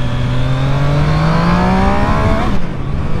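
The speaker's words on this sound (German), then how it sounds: "die läuft, die gibt ordentlich Gas" A 2020 Triumph Street Triple 765 RS motorcycle with a quickshifter revs hard, its loud engine note climbing steadily in pitch for over two seconds before easing off, with no talking.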